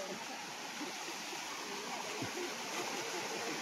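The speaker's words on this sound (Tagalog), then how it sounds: "Ayan yung falls dyan, may bumabagsak na tubig dyan sa falls." Steady broadband rush of water falling at a waterfall in Montalban, Rizal, a constant roaring wash close by with no clear breaks.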